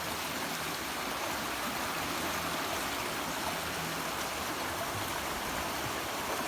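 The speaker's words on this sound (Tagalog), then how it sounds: "Ito yung tubig ng kilog. Napakalinaw. Galing bundok." A clear mountain stream flows steadily near a quiet cottage, producing a loud, continuous rushing and babbling wash of water with no people speaking.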